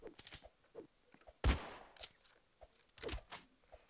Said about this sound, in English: Yo, he's trying to shoot me, huh?